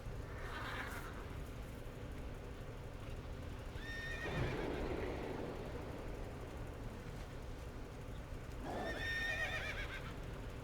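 In a video game, a horse whinnies twice, several seconds apart, with soft hoof clip-clops beneath. The sound is fairly quiet, with a low steady background and no talk.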